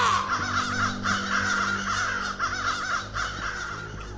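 Crows caw repeatedly in a dark night forest in the horror video game The Beast Inside, a flock of harsh, rhythmic calls rising over a steady low ambient drone, several birds overlapping at moderate distance.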